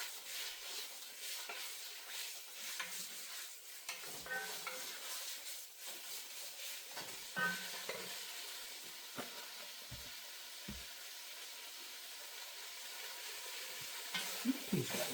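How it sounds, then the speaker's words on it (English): Beef sears in a hot pan for a loaded chili, giving a steady, close sizzle and hiss with occasional stirring scrapes and small pops throughout, with no talking. "Trying to get a nice sear on here,"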